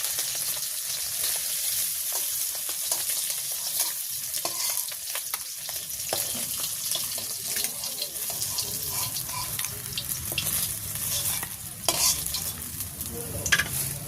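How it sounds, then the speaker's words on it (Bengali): Folui fish fries in a pan of oil in a village kitchen, giving a steady, close sizzle for about fourteen seconds. Occasional stirring clinks and scrapes break through the hiss. "ফলি মাছটা সুন্দর করে ভাজি করে নিচ্ছি"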